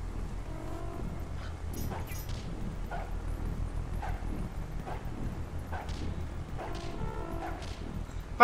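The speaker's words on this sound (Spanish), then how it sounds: "¡El perro de la casa está volviendo a pelear con las palomas!" In Zelda: Twilight Princess, a house dog scuffles with pigeons, giving short yips and barks scattered over steady background game ambience with no talking.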